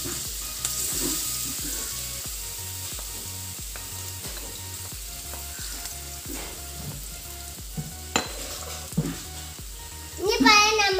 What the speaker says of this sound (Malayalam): നെയ്യ് ചൂടായി വന്നിട്ടുണ്ട്. ഇനി നമ്മൾ അരിഞ്ഞ് വെച്ച പഴം ഇടാം.